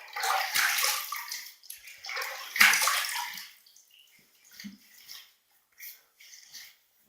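Water splashes loudly as a man wets his face with his hands before shaving, in two big close bursts followed by quieter drips and small trickles.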